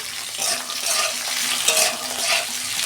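Ivy gourd frying in a pan of oil with a little salt, giving a steady close sizzle with soft stirring scrapes throughout and no voices.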